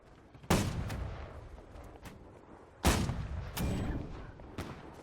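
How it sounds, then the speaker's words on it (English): British ship cannons firing in the naval battle game Holdfast: Nations At War, several heavy booms spaced over a few seconds, some louder and closer, others more distant, each rolling into a rumbling tail over constant background noise. "British firing off into nothing."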